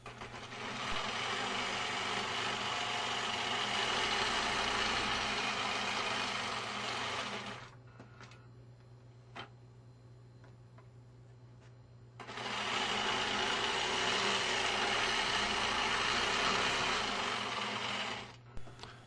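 A sewing machine stitches circles with a stepping disc, running in two long, loud, continuous whirring bursts separated by a quiet pause with faint clicks and handling noises.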